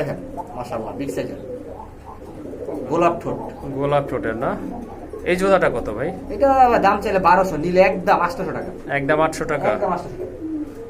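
Pigeons at a wholesale pigeon market coo in repeated throaty bursts and scuffle as males fight, close and loud, with someone talking over them.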